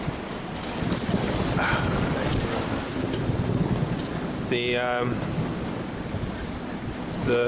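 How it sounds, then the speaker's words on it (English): Strong wind buffeting a sailboat at sea in the Bay of Biscay, a constant loud roar of wind noise on the microphone with sloshing waves and a brief rattling burst midway. "the winds are blowing like double what were predicted"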